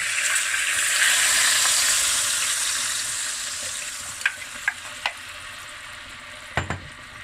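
Browned meat sizzling loudly in a pot as bouillon is poured in, a broad hiss that gradually eases, followed by a few sharp clinks of a utensil against the pot.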